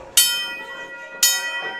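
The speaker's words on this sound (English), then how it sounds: "ring the bell" Wrestling ring bell struck twice, about a second apart, each a bright metallic clang that rings out and decays, loud and close with no talk.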